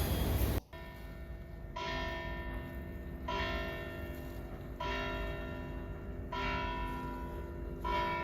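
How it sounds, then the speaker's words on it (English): A large church bell in Santiago de Compostela tolls slowly and evenly, five clear resonant strikes roughly every second and a half, each ringing out and decaying over quiet outdoor ambience. "I forgot that they ring the bell"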